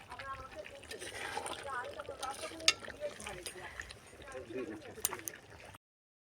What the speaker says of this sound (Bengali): মাংস রান্না হচ্ছে